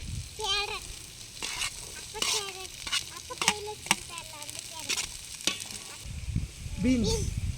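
Cabbage and garlic stir-fry in a pan over a village cooking fire for vegetable fried rice, with a soft, steady sizzle and intermittent scraping clinks of a stirring utensil, under occasional voices.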